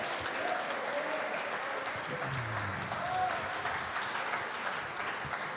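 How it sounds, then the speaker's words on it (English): Audience applause from a studio crowd at a live sports talk show, steady dense clapping held at even loudness throughout, with faint voices mixed underneath. "how about a big round of applause for number 18 tonight?"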